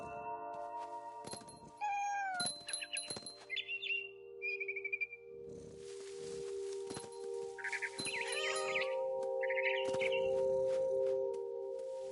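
Meows of a cat in the video game What Remains of Edith Finch sound over a steady electronic drone, mixed with chirpy bird calls and rustling bursts, like game sound effects.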